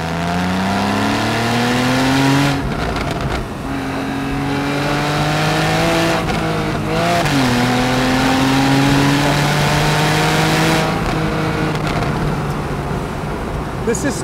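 A Porsche 911 Carrera S Cabriolet (991.1) accelerates hard after a manual downshift, its engine note climbing steadily through several gear changes, loud and close from inside the car.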